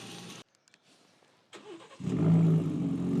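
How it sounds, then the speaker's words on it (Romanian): A large 450-horsepower Ford's engine cranks from the key and catches, then settles into a deep, rumbling cold idle from the exhaust after a couple of brief clicks and a pause. "Pornește din cheie. Și așa sună evacuarea la rece"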